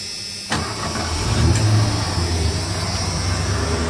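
A Ford engine cranks and catches after fuel injector work, then settles into a steady, close idle with a slightly rising hum over the remaining few seconds.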